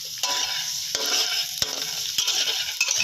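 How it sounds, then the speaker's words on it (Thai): Chopped garlic stir-frying in a hot pan, a steady bright sizzle with spatula scrapes and stirring knocks at irregular intervals, close and alone without talk. "ใส่กระเทียมลงไปนะครับผัดให้เหลืองนะครับ"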